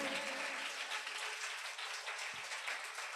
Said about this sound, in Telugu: అందరూ గట్టిగా చప్పట్లు కొట్టి పరిశుద్ధాత్మ దేవుణ్ణి స్తుతిద్దాం